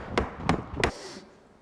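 A hammer strikes the seats of an old Dodge Charger three times in an even rhythm, each a sharp, close knock, followed by a short fading rattle.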